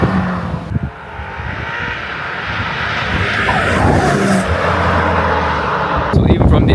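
Heard from outside, a BMW M5 Touring gives a loud, broad engine roar that builds steadily as the car passes nearby, with a voice briefly audible.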